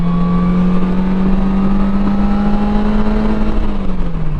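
A 2023 Slingshot S, base trim, revs hard under acceleration, a loud, steady engine drone that climbs gradually in pitch for about four seconds before easing off at the end.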